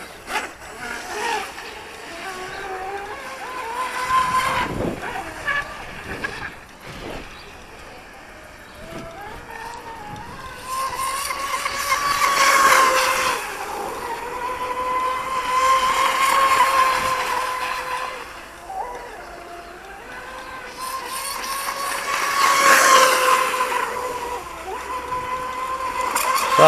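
A YPS fast electric RC outboard boat motor with a small prop runs on the water, its high whine rising and falling in several surges as the boat passes nearer and farther.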